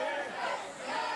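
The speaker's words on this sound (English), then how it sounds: "the fans chanting for Hero here in North Tonawanda" Wrestling crowd in a North Tonawanda arena chanting in unison for a wrestler, a rhythmic, reverberant roar of many voices heard from a distance at moderate level.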